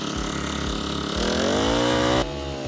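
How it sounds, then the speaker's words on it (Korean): A small one-inch portable engine water pump drawing through a four-metre suction hose chugs in a steady rhythm, then revs up and holds a rising whine before dropping back, loud and close, with no talk. "여기서 물을 잘 끌어올릴 수 있는지 엔진을 틀어볼게요."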